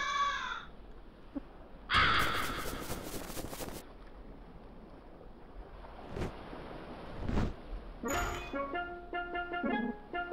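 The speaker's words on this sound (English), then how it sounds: "There is a crow in my boat." A crow caws in the video game LISA, with three harsh, raspy calls spaced several seconds apart over a faint bed of wind and water by a boat, plus a couple of short thuds between them.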